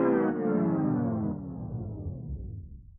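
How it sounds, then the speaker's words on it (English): A tape-stop slowdown effect from Logic Pro drags music down in pitch and tempo, the tones sinking and dulling steadily until the sound winds down to a halt at the end. "You would select slow down and that'll sound something like this."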